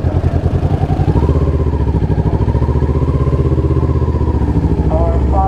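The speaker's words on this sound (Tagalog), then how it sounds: "Ingay ng motor natin" A motorcycle engine in a political motorcade chugs close by outside a church, with a rapid, steady throbbing rhythm, rising slightly in pitch partway through.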